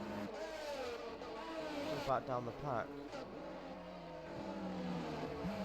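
Ferrari race car in a racing video game, its engine a steady mid-pitched drone with brief rising revs, running under continuous commentary.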